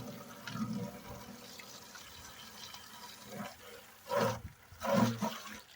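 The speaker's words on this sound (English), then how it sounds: "So basically, you just rinse the bucket, and this is when we don't want to lose our gold." Water poured and swished to rinse a bucket of glacial gold prospecting material in Wisconsin, a steady low wash with two louder splashing surges near the end.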